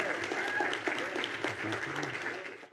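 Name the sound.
audience round of applause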